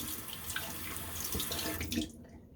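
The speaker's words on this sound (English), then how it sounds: "The lather rinses out with all the whiskers." Running tap water rinses shaving lather and whiskers out of a Henson AL13 safety razor, a steady close splash and gurgle that cuts off abruptly at the end.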